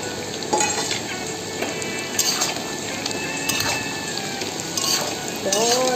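Spice powder sizzles as it fries in hot oil for a homemade bamboo shoot pickle, with a steady crackle, occasional stirring scrapes and a brief voice in the background.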